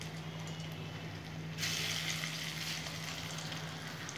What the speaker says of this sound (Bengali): এরকম করে আমি সব কোপ্তাগুলো ভেজে নেব।